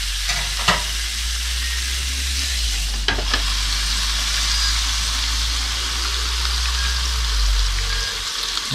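Steaks fry in a pan in a home kitchen with a steady hiss and crackle of sizzling fat, close and continuous, with a few sharp pops and small clatters.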